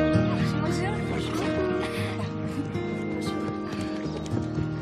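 Horses of young apprentice riders clop and whinny amid steady background music and overlapping voices, the hooves and neighs blended under people talking.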